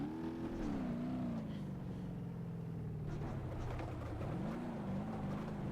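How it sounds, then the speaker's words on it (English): Car engine in BeamNG.Drive revving hard with a steady droning tone that rises and falls, loud and continuous throughout, Hirochi car from the Tough Car Challenge mod. "just rev the nuts out of this motor and drop the clutch"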